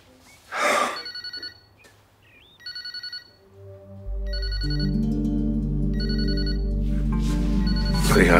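A telephone rings in short repeated electronic bursts, several rings spaced apart, then a sustained musical drone swells up and continues beneath the final rings.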